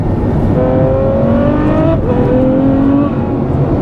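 A 2015 Ferrari F12 V12 engine revs hard and continuously, loud and powerful, its pitch climbing and dropping in repeated sweeps as it accelerates.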